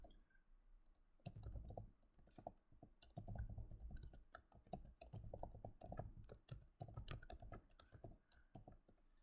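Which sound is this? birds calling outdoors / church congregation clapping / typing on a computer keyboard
typing on a computer keyboard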